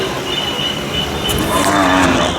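Khillar bulls lowing at a crowded outdoor cattle market in Sangola, a noisy background with a low drawn-out moo rising near the end.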